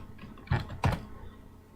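A computer keyboard while a command is typed at a command prompt, with two distinct clacking keystrokes close together against a quiet room background.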